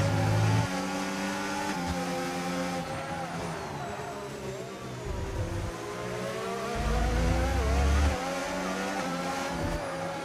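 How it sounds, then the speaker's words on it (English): A Formula 2 race car in a sim racing game at the Hungary circuit screams through gear changes, its high engine note rising and falling with throttle lifts and downshifts, loud and steady from onboard, with a brief tyre squeal. "Let's have a listen to Quill's throttle inputs"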